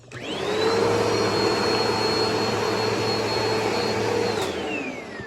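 A Bisley vacuum cleaner switches on and runs loud and steady with a high motor whine for about four seconds, then winds down at the end, with no talking.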